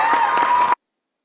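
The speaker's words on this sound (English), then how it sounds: "We're cheering in advance." Ceremony audience cheering and clapping, a loud dense burst of crowd cheers that cuts off abruptly after under a second.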